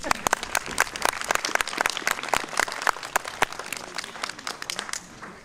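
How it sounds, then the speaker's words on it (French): Small audience at a church gathering applauding a priest, sparse distinct claps in an uneven rhythm that thin out and fade at the end, fairly close. "On l'applaudit."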